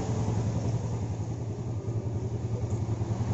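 A Yamaha Jupiter Z motorcycle engine idles close by with a steady, even rumble after being tuned for a stable idle, running alone without any voices.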